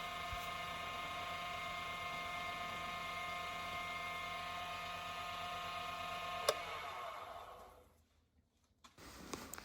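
A wood lathe spinning a pen blank during friction finishing, a steady high whining hum with a sharp tick partway through, then the motor spins down and stops, leaving near silence and a few faint clicks.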